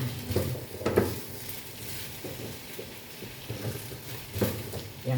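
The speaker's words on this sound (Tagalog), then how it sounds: "Ginigisa ko po muna yung carrots tsaka carrots po at saka patatas" Carrots and potatoes are sautéed in a pan for chicken curry, giving a steady low sizzle broken by occasional scraping stirs and light clinks of a utensil against the pan.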